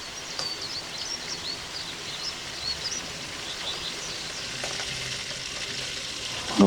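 Borano, cheese melted in butter, frying in a pan with a steady close sizzle and crackle throughout, a faint bird chirping in the background and a soft knock at the very end, no talking.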